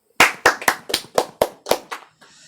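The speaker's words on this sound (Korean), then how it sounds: "하나님께 영광의 박수 올리겠습니다." A church congregation claps hands together in unison during a Sunday worship service, eight sharp, evenly spaced claps ringing out in a steady rhythm before stopping.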